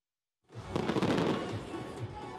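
Fireworks at a New Year celebration burst in suddenly after a short silence, then keep up a dense, continuous crackling and popping at moderate loudness.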